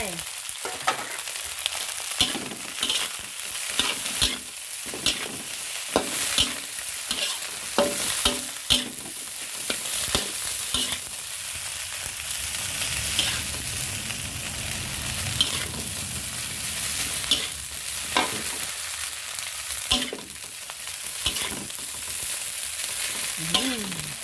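Egg fried rice with green onion being stir-fried in a pan: a continuous loud sizzle broken by frequent scraping and clacking strokes of a utensil against the metal, with no voices.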